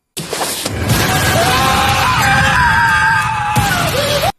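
A little ghost girl in a Korean supernatural drama screams loudly and continuously for about four seconds, a harsh sustained shriek with rising and wavering pitch over dramatic background noise, cutting off abruptly at the end.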